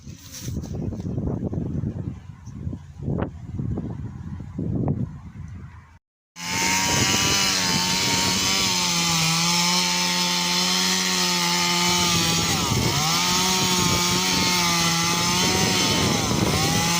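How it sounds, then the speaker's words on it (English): Chainsaw cutting through trees, first in short revving bursts with pauses, then a long continuous high-pitched whine close by, loud and sustained. "we gotta cut out some of the trees to get it out."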